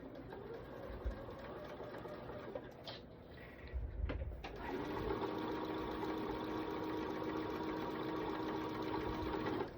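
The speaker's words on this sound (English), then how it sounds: "I'm sewing straight down like this" A domestic sewing machine runs steadily stitching straight lines on a quilted table runner, its motor a continuous mechanical whir after a brief pause with a few clunks near the start.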